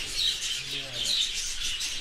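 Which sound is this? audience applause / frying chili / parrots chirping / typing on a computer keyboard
parrots chirping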